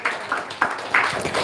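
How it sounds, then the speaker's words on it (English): A small audience at an evening talk gives a warm welcome with light, sparse clapping, a handful of distinct claps and patters over a second and a half, moderately near and without speech. "Let's give him a round of applause."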